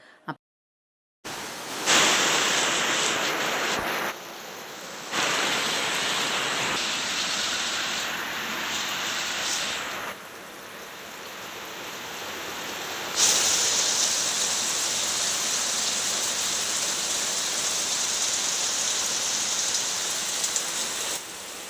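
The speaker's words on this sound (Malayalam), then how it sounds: "മഴ നല്ല തകർത്ത് വരുന്നുണ്ട്" Heavy rain pours down in a dense, steady hiss, loud and close throughout, with a brief quiet gap near the start and a few shifts in intensity, no voices.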